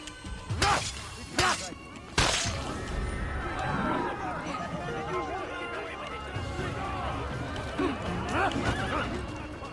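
A horse in an Assassin's Creed combat scene whinnies loudly near the start, followed by clip-clop hooves, thuds and game sounds, with a voice talking over parts of it.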